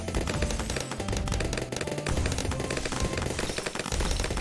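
Sniper monkey gunshots in Bloons TD 6 come in rapid, dense bursts of sharp cracks, loud and continuous throughout, layered over busy game effects.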